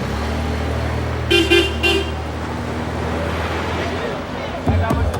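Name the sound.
traffic in Port-au-Prince, car horns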